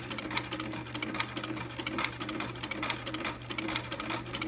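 A vintage Singer sewing machine with a buttonholer attachment runs steadily with a fast, even mechanical clatter and hum, stitching a buttonhole continuously at close range without pause.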